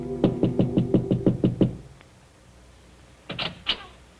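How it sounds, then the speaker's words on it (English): Knocking at an apartment door in a 1943 radio mystery drama: a quick, even run of about eight raps, a pause, then two more separate knocks, close and clear with no talking. "there is a soft knock at his door"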